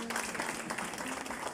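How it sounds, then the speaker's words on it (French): An audience applauds winners at the Media Trust Award 2020 ceremony in Mauritius, a brief burst of dense, moderately distant clapping with a voice speaking over it. "Bravo, on peut les applaudir encore une fois."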